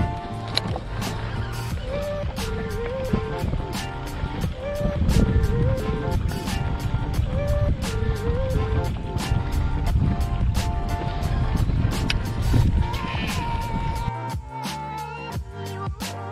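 A boat trolling motor runs on high while bass fishing, a steady mechanical whine and hum close by, continuous across the clip with some water and handling noises and a brief change near the end.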